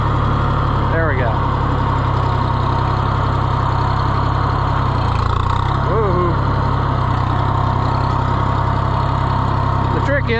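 A John Deere 1020 tractor engine idles and runs steadily at close range during a test drive, a constant low rumble with faint voices and brief squeaks over it.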